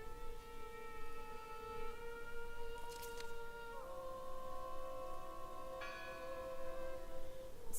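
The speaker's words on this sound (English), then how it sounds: "Listen!" A church bell in the video game Draugen rings with long, sustained metallic tones that shift pitch partway through, over a steady rushing background and without speech.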